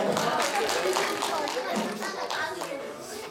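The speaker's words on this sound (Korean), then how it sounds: "우리 맞춘 사람들 스스로 잘해서 박수 한번 칠까요?" A church congregation of children and adults breaks into scattered applause for those who answered a quiz correctly, lively claps mixed with excited chatter.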